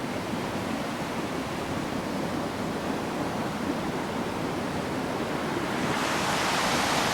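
The River Garry rushes through the gorge at Soldier's Leap, Killiecrankie, a loud, continuous roar of churning water that holds steady throughout, with no voices.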